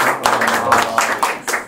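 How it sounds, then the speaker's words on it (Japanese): Hand clapping from a small group in a Japanese talk-show studio, a few seconds of bright, uneven claps with several stronger bursts, heard alongside light talk. "はい、拍手。"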